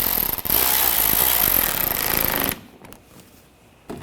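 Power tool snugging screws on a 2013-2022 Buick Encore 1.4L front bumper cover, a loud close buzzing whir lasting about two seconds, then quiet handling noises and a brief burst at the end.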